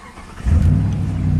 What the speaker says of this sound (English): we got the truck running